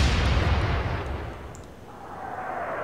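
Naval artillery shot in the video game Atlantic Fleet: one heavy booming gun blast that starts loud and rumbles away over a couple of seconds, with no talk.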